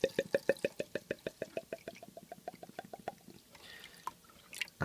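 Water poured into an ultrasonic cleaner's tank: a steady, rapid chain of hollow glugging bursts, close and fairly quiet, giving way to softer splashes and a couple of light knocks near the end.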